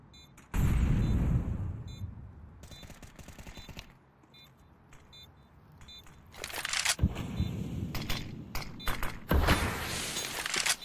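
Grenade blasts in the video game Counter-Strike 2, heavy booming bursts with rumbling tails, one loud near the start and more clustered later amid scattered gunfire.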